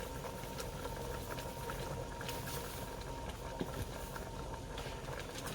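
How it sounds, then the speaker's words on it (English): Sugar syrup for candied yams simmers at a good boil in a pot, a faint, steady bubbling hiss with small irregular pops running evenly throughout. "it's up to a good boil"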